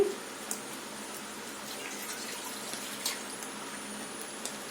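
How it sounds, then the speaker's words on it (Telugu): Water pours steadily into a pan of paneer masala gravy, a continuous moderate gush with a few small splashes and clinks, heard alone at close range. "మీ గ్రేవీ ఎంత కావాలో అంత వాటర్ పోసుకోవాలండి"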